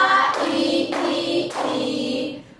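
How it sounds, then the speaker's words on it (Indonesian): A class of students claps hands together in three rhythmic bursts at a school lesson, the claps close and fairly loud, with brief pauses between bursts. "tepuk bersama"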